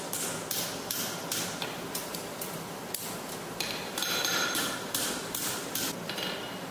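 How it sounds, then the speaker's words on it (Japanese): A farrier hammers a heated iron bar into a horseshoe at a racehorse training center, with a rapid, ringing series of metallic blows on an anvil that is steady and loud, with no talking. "ハンマーで叩いて徐々に蹄鉄の形に曲げていきます。"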